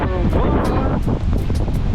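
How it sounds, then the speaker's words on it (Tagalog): Strong ocean waves crash and roll continuously at Chamban Beach, Romblon, during a storm, with heavy wind buffeting the microphone throughout. "Ang lakas ng alon"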